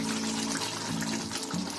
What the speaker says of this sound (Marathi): आता आपण ग्रेव्ही टाकायची आणि पाणी ओतायचं आपल्याला पाहिजे तेवढा.